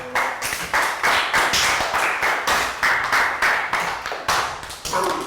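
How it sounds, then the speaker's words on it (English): In a Year 3 math class, a small group claps for a student: a rhythmic, fairly loud run of hand claps in quick regular bursts, close by, with no talking over it. "Round of applause for Chu."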